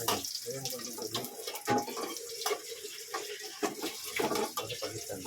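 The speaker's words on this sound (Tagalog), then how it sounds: "Lagyan mo konti tubig." Tap water runs into a cooking pot in a home kitchen while preparing burger steak, a continuous splashing stream with irregular clatter, close and moderately loud.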